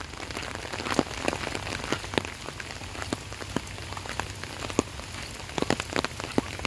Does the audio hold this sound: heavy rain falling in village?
yes